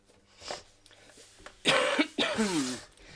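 Someone coughs and clears their throat several times nearby, a few rough bursts breaking a quiet room.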